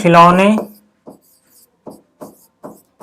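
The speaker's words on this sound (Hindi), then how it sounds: "तो यहाँ पे हम लिखेंगे" Solution being written on a board in a Class 12 maths lesson: someone speaks briefly, then five short scratchy strokes follow in a steady, spaced rhythm, close and fairly quiet.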